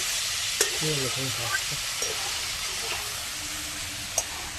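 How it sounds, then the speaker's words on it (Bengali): Banana flower stir-fried with spices in a pan gives a steady, close sizzle with a few sharp scrape clicks of the spatula, and a brief voice hums early on. "মোচাটা এবার মশলার সাথে ভালো করে কষিয়ে নেব।"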